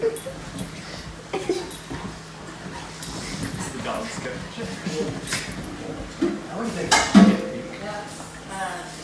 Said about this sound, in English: So many puppies, so cute.